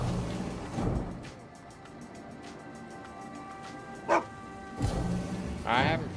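A dog barks a few times at moderate distance, with short sharp yelps spaced across the stretch over a quiet background, plus a brief bump of other noise.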